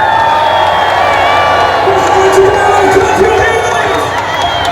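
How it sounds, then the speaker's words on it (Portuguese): Large crowd at a political rally on Avenida Paulista in São Paulo shouting and cheering together in a loud, sustained roar with whoops, dense and continuous throughout. "quem quer mandar um gritão para Eduardo Bolsonaro do Brasil, dá um gritão aí!"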